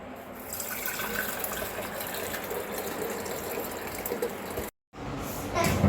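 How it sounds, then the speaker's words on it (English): Homemade cultured butter is poured through a strainer, giving a continuous close liquid gush and splashing for several seconds, broken by a brief silent cut near the end. "We're just gonna send it through a strainer."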